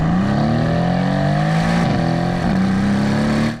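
A 600 hp Brabus-tuned Mercedes-AMG C63 S revs loudly and close by, its engine note climbing in a smooth rising whine, dipping briefly midway, then pulling up again before cutting off.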